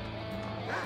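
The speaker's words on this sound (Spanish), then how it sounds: "Ay, qué perro de mierda." In the action video game Shank, a dog barks in short yipping bursts over a dense game soundtrack and effects, fairly loud and brief.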